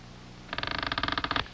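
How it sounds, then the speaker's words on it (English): An old wooden door in a weather-beaten house creaks open in a cartoon: a loud, rapid rattling creak of about twenty quick pulses lasting roughly one second, heard alone. "Somebody's opening the door."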